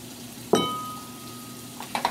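Sliced mushrooms go into a pan of frying beef for stroganoff, opening with a sharp metallic clink and a steady sizzle, followed by a couple of quick clinks near the end.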